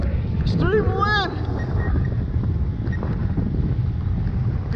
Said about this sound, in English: Extreme wind.